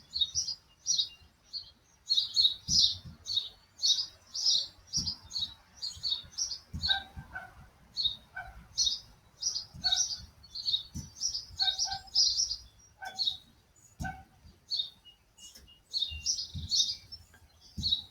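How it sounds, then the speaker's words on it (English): Birds chirp in quick repeated bursts throughout, fairly close, with occasional low thuds underneath; a dog's bark is not clearly distinguishable. "All kinds of dog barking and birds chirping."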